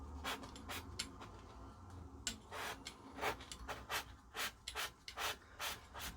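Sanding block rubbed back and forth on a part of a Thorn 8940 VHS video recorder during restoration, about a dozen rhythmic, close, scratchy strokes that speed up toward the end, with no talk.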